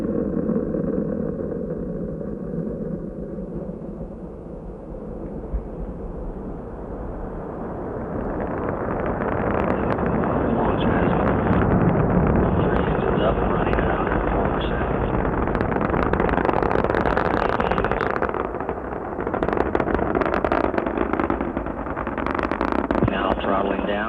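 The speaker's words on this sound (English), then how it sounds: "Ignition and liftoff. Atlantis begins another space voyage as it clears the tower." Space Shuttle Atlantis main engines and boosters igniting at liftoff on the STS-27 launch, a loud sustained roar that builds and swells into a broad rumbling blast, with a launch commentator talking over it.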